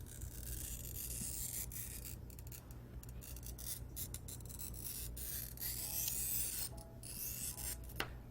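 A glass cutter scores a sheet of colored glass, giving a continuous close scratchy rasp that swells and fades over several strokes, with a low hum underneath.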